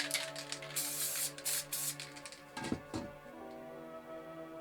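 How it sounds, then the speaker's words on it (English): Molotow water-based acrylic spray paint hissing from a can in a series of short bursts, with a few faint clicks and knocks between sprays, at close range. "if you move pretty fast as you're spraying it, comes out a nice mist, nice smooth"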